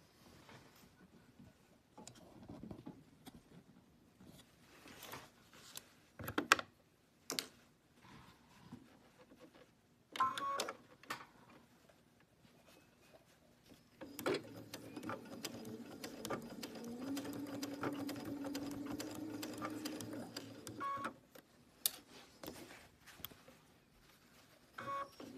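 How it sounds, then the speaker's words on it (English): A sewing machine stitches a 3/4 by 21.5 inch inner border onto a quilt's top border, starting and stopping in short bursts before a steady run of about seven seconds, with no talking. "I'm ready to sew."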